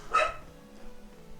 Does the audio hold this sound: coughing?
no